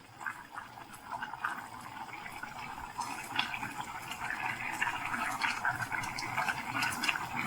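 Beaten egg poured slowly in a loop over Korean ramyeon cooking in a pot, a soft steady liquid trickle and light bubbling that gradually swells, with no talking.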